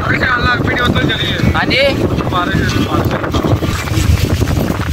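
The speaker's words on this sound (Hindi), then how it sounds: "माहौल बहुत ही तेज हवा चलन डई है" Strong gusty wind during a sudden storm in Gujranwala buffets the microphone with a constant loud rumble and roar, while someone talks over it throughout.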